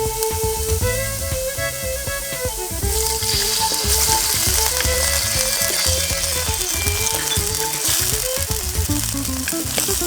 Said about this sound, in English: Add soy sauce.